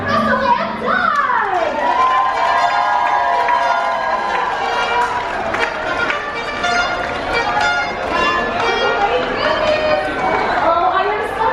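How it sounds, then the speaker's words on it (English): Audience aboard a Disney Fantasy cruise ship cheers and claps for Russell and Doug, a dense, steady roar of crowd noise with children shouting and an announcer's voice rising over it. "Everyone give a big round of applause for Russell and Doug!"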